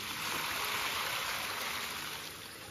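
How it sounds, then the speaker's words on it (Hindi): Water from a small backyard fish pond pours and splashes steadily as it is thrown out, a continuous rushing, stream-like flow heard close and alone. "ये देखो भाई पानी बढ़िया से फेंक रहे"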